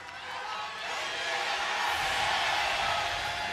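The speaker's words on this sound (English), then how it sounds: "Fan cheers are out here for KT with the home crowd." A home crowd cheers in the arena at a League of Legends world championship esports match, a fairly faint, continuous roar that swells after a couple of seconds and holds steady.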